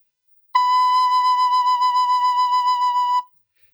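A tin whistle holds a single clear, pure note with bright overtones for about three seconds, pulsing gently in a regular rhythm before stopping cleanly. It sounds close and solo, with no voices.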